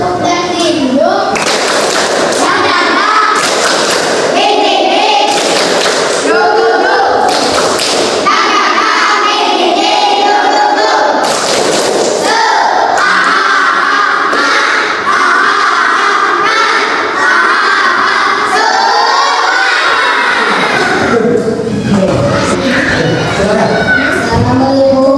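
Children in an Indonesian classroom clap a rhythmic tepuk semangat chant together, sharp claps in patterned bursts mixed with loud chanting voices throughout.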